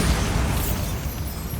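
A Bombarda spell detonates in Hogwarts Legacy, a loud rumbling blast with a broad, sustained roar that fills the brief moment and slowly tapers off.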